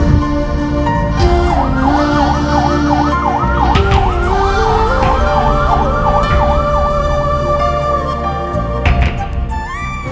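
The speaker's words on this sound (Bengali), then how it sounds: "এটা হইতেছে অ্যাম্বুলেন্স" An ambulance siren wails in a repeating rising-and-falling pattern, loud and close, over a vehicle's engine rumble, fading near the end.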